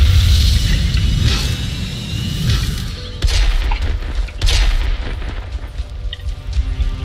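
Gunfire and heavy booming blasts from the sci-fi shooter game Firefall, loud repeated bursts with deep rumbling impacts over several seconds amid continuous battle noise.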